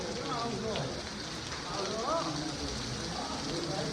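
Heavy rain falls in Sami, a dense, steady wash of drops on surfaces that stays loud and continuous throughout, with a voice faintly audible beneath the downpour.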